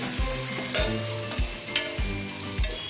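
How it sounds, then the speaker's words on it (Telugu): Cashews and soya chunks for biryani fry in a pan with a steady close sizzle, broken by regular scraping stirs of a spoon against the pan about every half second. Nobody speaks. "జీడిపప్పు కూడా వేసుకుంటామండి ఇంకా పది నిమిషాలు ఇవి వేగనివ్వాలండి"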